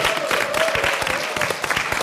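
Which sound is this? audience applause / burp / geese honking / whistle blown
audience applause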